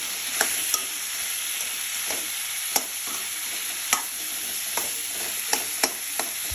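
Tomatoes with salt sautéing in a pan for tomato pickle, a steady close sizzle with sharp spoon scrapes and taps against the pan at irregular intervals, no voices.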